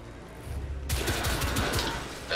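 Rapid gunfire from The Order: 1886 bursts in suddenly after a quiet moment, a dense loud volley of repeated shots continuing to the end.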